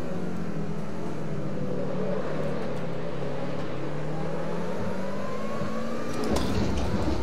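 A Lotus 2-Eleven engine in the Assetto Corsa racing game at Magione, droning steadily and climbing in pitch as it accelerates, then a sharp shift near the end, loud and close with no talk.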